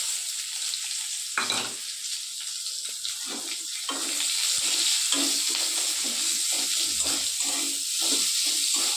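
Chopped onions go into a pan for a Bengali rohu fish curry and fry with a steady loud sizzle, broken by the scrape and clatter of stirring throughout, with no talking.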